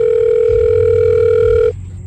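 A steady telephone dial tone heard while a call is placed on a cellphone. It plays loud and continuous, then cuts off abruptly, leaving low background noise.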